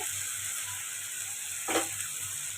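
Spice paste sizzles steadily in hot oil in a pan while a Bengali vegetable curry is cooked, with a constant close hiss and one brief stirring scrape near the end.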